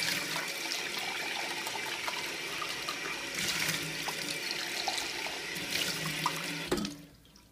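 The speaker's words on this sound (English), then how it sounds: "So I like to rinse it out immediately afterwards." A kitchen tap runs steadily as a milk frothing jug is rinsed out after making coffee, the water splashing and surging in a few louder bursts before cutting off abruptly near the end.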